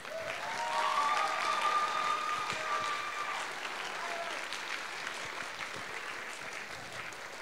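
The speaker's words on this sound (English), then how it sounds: "Big round of applause for our choir." A school assembly audience applauds its choir, a dense, steady wash of many hands clapping that fills the room, loudest at first and easing slightly while continuing throughout.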